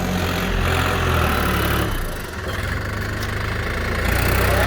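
A New Holland TT3.50 three-cylinder tractor engine runs loud and close, a rough, steady diesel chug with a knocking beat that dips briefly midway before picking back up.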